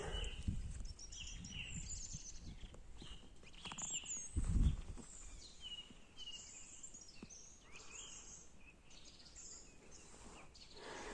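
Birds sing outdoors in the mountains. Faint high chirps and short calls come from some distance and are scattered over a quiet background, with a brief low thump near the middle.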